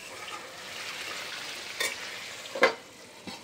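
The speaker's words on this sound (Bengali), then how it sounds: "আর এদিকে হচ্ছে চিকেন।" Chicken sizzles and fries in a pan, a soft steady crackle broken by two sharp scraping strokes of a spoon stirring the meat, close and alone.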